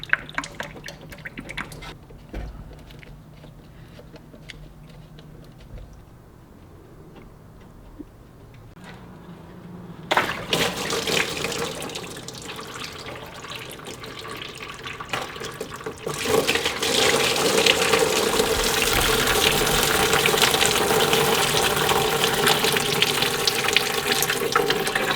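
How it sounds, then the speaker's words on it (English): Water draining out of a removed water pump hose on a BMW 323i E21 into a bucket under the car, a steady splashing flow that grows louder midway and keeps pouring without talk. "It will drain more water, so continue to keep a bucket under the car."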